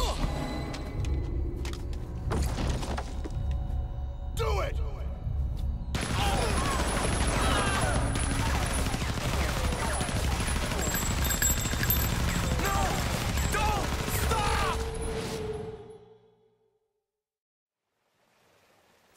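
Soldiers fire in the Resident Evil Zero game, a dense, continuous barrage of rapid gunshots and rumbling fusillade with shouting voices mixed in, lasting about fifteen seconds before cutting off to near silence.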